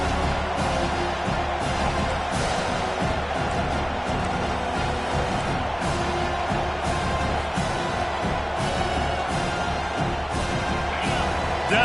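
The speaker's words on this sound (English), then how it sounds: "Decibels rising as the crowd gets behind this defense on 3rd down." Dense, steady roar of a football stadium crowd at a Michigan vs Miami game, cheering loudly behind the defense on third down, sustained and unbroken with scattered shouts rising from the mass of noise throughout.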